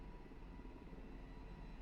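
A constant low engine drone with a rumbling whir, steady and fairly quiet throughout, from an idling Sikorsky S-92 helicopter on a runway in the X-Plane 11 flight simulator.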